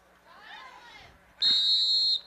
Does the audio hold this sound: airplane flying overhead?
no